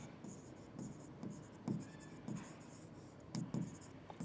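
Chalk or marker strokes scratching on a board during a chemistry lecture, a series of short bursts in an uneven rhythm, close and fairly quiet, with no talk over them.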